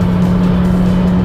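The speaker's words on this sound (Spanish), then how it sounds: "Y de aquí en adelante, pues prácticamente el carro le cuesta un poco más llegar al siguiente cambio." Renault Stepway 2020 car engine working hard as it accelerates through the gears, a loud, steady interior drone with a constant low engine tone throughout, no talk.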